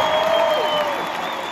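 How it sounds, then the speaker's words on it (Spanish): Concert audience at a show in Sunrise, Florida, applauding steadily for a percussionist called to the stage, a dense wash of clapping heard from within the crowd, with faint music tones underneath. "Aplauso a él para que no se ponga nervioso."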